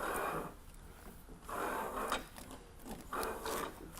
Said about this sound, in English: we're pulling this carriage through